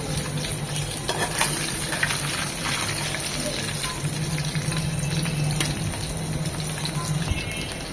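Meni fish frying lightly in oil in a pan, a dense close sizzle and bubbling that carries on steadily with occasional stirring clatter.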